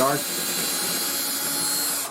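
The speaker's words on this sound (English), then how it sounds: "we are drilling through the molding" A power drill whirs at a steady high pitch for a couple of seconds through wood window molding, starting abruptly and winding down at the end.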